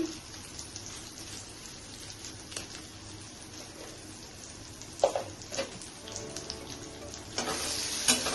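Spices fry with Kashmiri chili and salt in a pan, producing a soft, continuous crackling sizzle. A few stirring scrapes sound close by, and the sizzle brightens toward the end.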